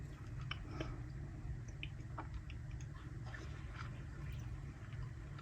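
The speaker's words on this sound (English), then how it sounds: "as I'm chewing away on my chocolate" Someone chews chocolate close up, making soft, irregular wet clicks and squishy smacks that are faint over a steady low background hum.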